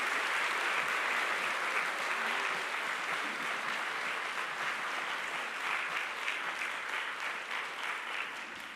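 A church congregation applauds at a Sunday service to welcome a retired senior pastor, a steady, full wash of many hands clapping that holds evenly throughout without talk.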